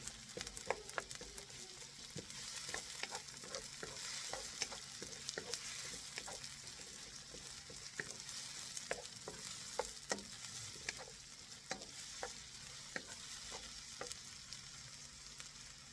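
Chopped onion frying in a pan for pork adobo, a quiet, steady sizzle with frequent small crackles and pops spread evenly throughout, no voices.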